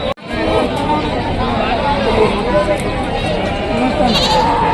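Goats bleat repeatedly amid a busy crowd, with constant chatter and voices talking over the animal calls in a noisy open space.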